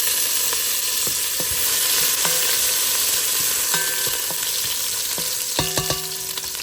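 Garlic and ginger sizzle steadily in a hot pan while a utensil stirs and scrapes, with metallic clinks against the pan; close, continuous frying and no voices.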